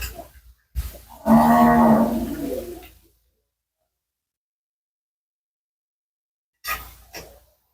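A dairy cow kept with her calf in Pabna, Bangladesh lets out one loud, drawn-out moo lasting about two seconds, followed by silence and a couple of short faint noises near the end.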